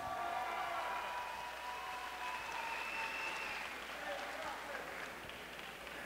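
Crowd applause for two fighters after a bout at a fight event, a continuous wash of clapping and cheering across the arena, fairly even in level, with an announcer speaking over it.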